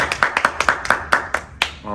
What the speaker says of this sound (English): Hold up, let's clap it up.